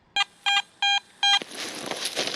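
A metal detector signalling a target while detecting in a valley field gives four short, evenly spaced electronic tones, followed by a burst of rustling, scraping noise.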